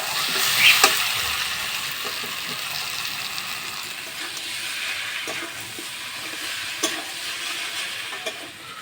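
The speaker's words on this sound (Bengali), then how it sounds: "এখন দিয়ে দেব আলুগুলি, আলুগুলি দিয়ে ভালো করে কষিয়ে নেব" Potatoes sautéing in a pan with turmeric and salt: a continuous, even sizzle with occasional soft ticks and scrapes from stirring.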